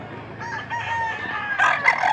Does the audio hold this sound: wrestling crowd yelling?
no